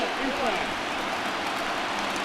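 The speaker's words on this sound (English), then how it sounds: "Gotta love a late rally, and listen to this crowd now." A stadium crowd cheers during a late rally in the baseball video game MLB The Show 20, Orioles at Red Sox, with a steady, loud roar of voices filling the clip from start to finish.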